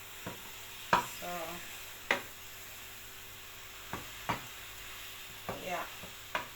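Chikanda is stirred in a big pot as a faint, quiet background with about eight separate scraping strokes spaced irregularly, each a short clack or scrape against the pot.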